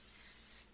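Baking spray hissing from a can while baking at home, a single short continuous spray burst that fades out near the end.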